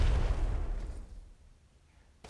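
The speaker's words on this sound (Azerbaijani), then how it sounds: "Bombanı bot atır" A bot-thrown grenade goes off in PUBG Metro Royale with a loud, deep boom that rumbles and fades over about two seconds.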